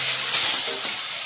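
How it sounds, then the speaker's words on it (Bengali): Pabda fish frying in hot oil in a kadai, giving a steady, bright sizzle and hiss close by, with no talk over it. "তেল গরম হয়ে গেছে, এবারে মাছগুলো দিয়ে দেব"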